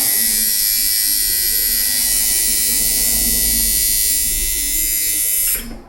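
A tattoo machine with metal parts runs as a loud, steady high-pitched electric buzz up close, holding constant for several seconds before cutting off at the end.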